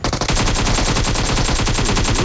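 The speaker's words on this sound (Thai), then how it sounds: "เดี๋ยวผมยิงกดให้เพื่อนด้วยนะ" Rapid sustained AK rifle fire in PUBG Mobile, loud and close, a dense unbroken burst of shots carrying through the whole stretch with no talking.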